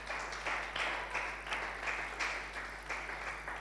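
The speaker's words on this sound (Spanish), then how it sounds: "Dele ese aplauso al Señor." Church congregation applauding in a Spanish-language worship service, a steady, fairly faint wash of clapping that swells in rhythmic pulses roughly every half second, with no voices over it.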